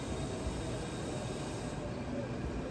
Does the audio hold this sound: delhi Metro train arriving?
yes